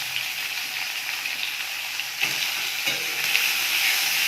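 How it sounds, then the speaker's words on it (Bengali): Bitter gourd frying in oil with onion and dried chilli in a kadai, an even bright sizzle with a couple of stirring scrapes near the end, no voices. "একটু ভাজা ভাজা করে নেব।"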